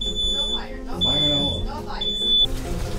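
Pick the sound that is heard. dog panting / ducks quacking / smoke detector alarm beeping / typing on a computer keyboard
smoke detector alarm beeping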